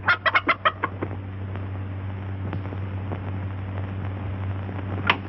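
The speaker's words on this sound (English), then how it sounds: "I have a hen sitting under the bed, and he likes to peck at her." A hen clucking in a short burst of several sharp, close calls at the start, then a steady low hum with faint scattered sounds and one more cluck near the end.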